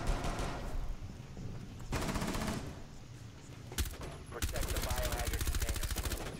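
Rapid automatic gunfire in a Rainbow Six Siege team deathmatch on the Club House map, coming in sustained bursts that start and stop, heard alongside talking players.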